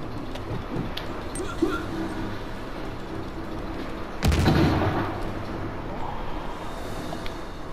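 A grenade blast in Uncharted 4 lands as a sudden heavy boom over game ambience and distant gunfire, fading into a rumbling tail, with someone talking over the action.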